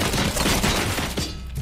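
Sustained burst of gunfire in the video game RoboCop Rogue City on extreme difficulty, dense rapid shots forming a loud continuous fusillade across the whole moment with no talk.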